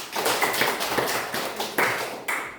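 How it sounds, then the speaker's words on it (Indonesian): A classroom of students clapping for a classmate, a quick patter of many hands, fairly close and uneven, lasting a couple of seconds with a few louder individual claps. "tepuk tangan untuk Alex"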